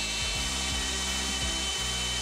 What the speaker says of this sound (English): we can now drill the holes for the through bolts